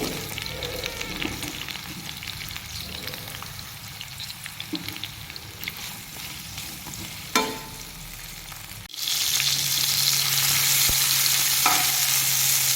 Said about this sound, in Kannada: ಇದಕ್ಕೆ ನಾನು ಕಟ್ ಮಾಡಿರುವಂಥ 2 ಈರುಳ್ಳಿನ ಹಾಕ್ಕೊಳ್ತಾ ಇದ್ದೀನಿ.